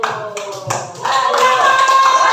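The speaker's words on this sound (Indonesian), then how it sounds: "jadi tepuk tangan dulu untuk kelompok 1" Classroom group clapping for a student team, a burst of scattered claps that thickens into steady applause in the second half, fairly close.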